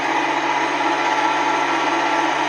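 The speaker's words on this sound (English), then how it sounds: "Can you hear that fan as it tapers off, tapers off, tapers off?" A fan runs at a steady, maximum-speed whir, a constant broadband rush with an even tonal hum, close and unbroken with no voices.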